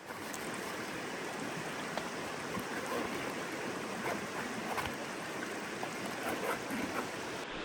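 Mountain stream of medium current flowing through a wild Carpathian forest, a steady broadband wash of water that holds even and continuous at close range, with no talk over it.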